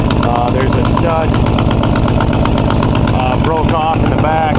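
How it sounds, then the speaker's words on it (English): An Oldsmobile engine runs loud and close with a steady rough drone and rhythmic ticking pulses from an exhaust leak at a broken manifold stud, with a voice speaking over it. "But I've got an exhaust leak right there."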